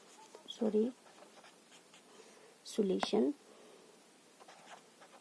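Pen strokes scratch softly across paper while a math solution is written out, faint and intermittent beneath someone talking.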